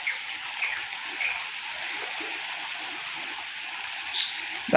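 A flooded stream rushing along, a constant watery hiss and gush at moderate level that holds steady for a few seconds, with no talking.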